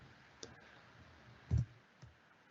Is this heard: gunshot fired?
no